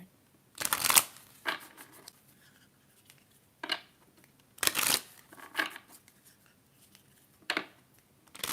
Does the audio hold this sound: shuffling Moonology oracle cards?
yes